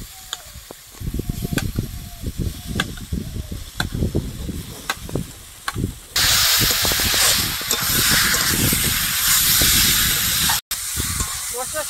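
Fried potatoes tipped into a pan of sizzling spice mixture with tomatoes, giving a sudden loud, steady hiss and crackle after some earlier scraping and stirring, with a brief cut near the end.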